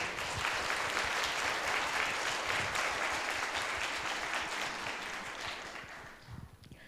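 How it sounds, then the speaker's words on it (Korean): Sustained applause from a large audience at a university talk concert, loud and steady for several seconds before tapering off near the end. "여러분의 큰 박수로 시작하겠습니다"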